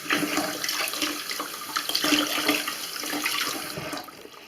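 Running water rinses a kitchen sink trap being cleaned, a steady close splashing stream with small gurgles, no voices.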